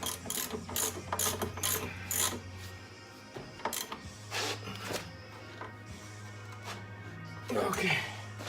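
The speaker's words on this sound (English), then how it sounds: "Now I can get the ratchet on it." Series of quick ratchet clicks from a hand ratchet tightening a rear suspension bolt on a BMW X3 in a garage, coming in short bursts with pauses, close up, with a low steady hum in the background.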